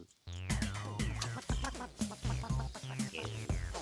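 A hen in a garden, pecking at bean seeds, clucks close and loud in a quick run of short, rhythmic calls that start suddenly and continue throughout.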